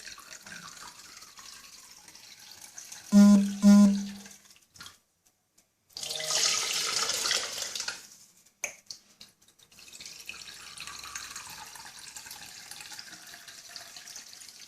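Water poured into a bowl for Moroccan pancake batter (mkhanfar), a brief trickling splash followed by a louder gushing pour, with faint handling noises around it.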